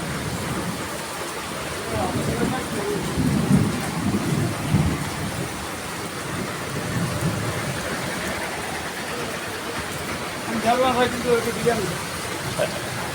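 Steady, dense rush of heavy rain pouring down at a bus stop shelter, with muffled voices talking now and then beneath the downpour.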